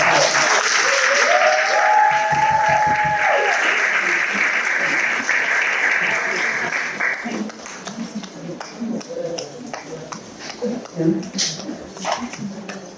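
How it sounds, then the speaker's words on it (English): Audience applause at a panel discussion on women in finance, a dense sustained clapping wash that fills the room for several seconds, then thins out and fades as scattered claps and talk take over. "A round of applause for Charity."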